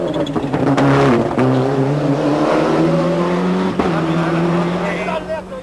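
A Ford rally car's engine roars and revs hard during the snowy 1995 Monte Carlo Rally, loud and close with rising and falling pitch as it accelerates and shifts, while a commentator talks over it.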